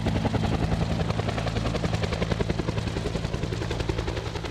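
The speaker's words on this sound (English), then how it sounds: "There's nothing quite like the sound of an Iroquois helicopter in full flight." An Iroquois helicopter's rotor thumps in a fast, steady beat in full flight, loud and continuous, with a heavy low engine drone beneath.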